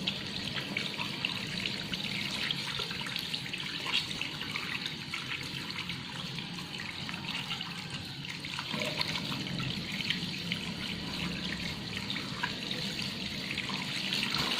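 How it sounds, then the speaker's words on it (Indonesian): Tap water runs steadily into a sink while soapy hands are rinsed clean during handwashing, a continuous even splashing and trickling that holds close and constant throughout with no talk. "Bilas sampai bersih."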